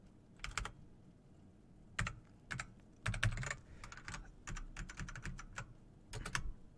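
Rapid keystrokes on a computer keyboard right next to the microphone, coming in uneven bursts and clusters of clicks with short pauses between them.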